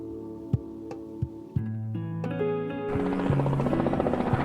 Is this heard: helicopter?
yes